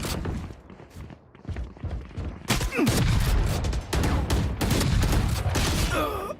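Rapid bursts of gunfire from the Valorant video game crack and thud in dense, overlapping volleys, growing louder and more continuous in the second half.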